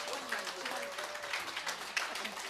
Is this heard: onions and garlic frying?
no